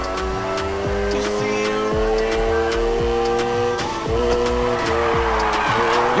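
A car drifting in the racing game Need for Speed Heat, with a loud engine holding a steady pitch while tires squeal continuously and the revs climb and drop with repeated gear shifts.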